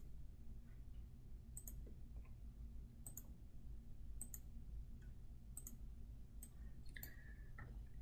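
Mouse clicks on a computer while running a simulation of a fourbar linkage with a triangular coupler, scattered single sharp clicks, about seven over several seconds, faint and close over a low steady hum.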